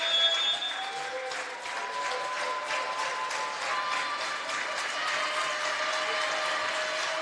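A volleyball crowd at a college match cheers and applauds steadily through a set point, with dense clapping and a sustained roar throughout.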